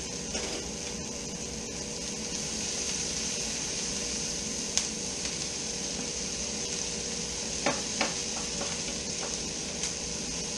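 Sliced portabella mushrooms cooking in butter in a pan, a continuous close sizzle with a few sharp clicks and utensil taps, no talking.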